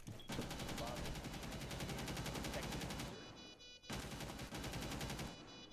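Weapon fire in the Rainbow Six tactical shooter game rings out in two rapid, evenly spaced bursts of sharp shots, loud and close, separated by a brief pause.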